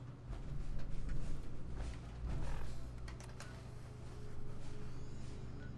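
A creaking door swinging open in Fallout 4, with a drawn-out groaning creak and low mechanical rumble under game ambience, fairly loud and close, no talk.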